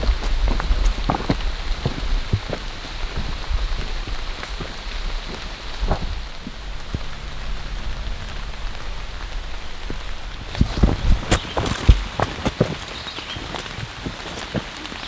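Rain falling on a misty Rocky Mountain hike, a steady close patter of drops on surfaces with occasional sharper taps and rustles.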